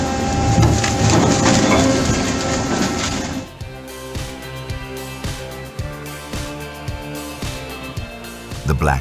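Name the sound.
industrial shredder tearing timber into wood chips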